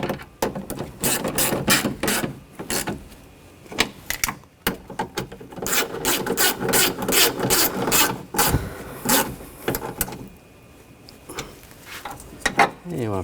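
Rapid ratchet clicks tighten bolts on a 2000-2006 BMW X5 rear window regulator, coming in quick bursts with short pauses, close and crisp.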